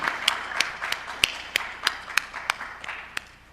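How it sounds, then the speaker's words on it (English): Scattered claps from a small audience at a ministerial conference plenary, a dozen or so sharp separate hand claps in an uneven rhythm rather than a full ovation, close and moderately loud. "Please welcome him with a warm applause."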